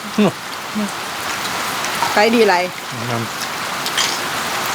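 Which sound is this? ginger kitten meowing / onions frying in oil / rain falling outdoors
rain falling outdoors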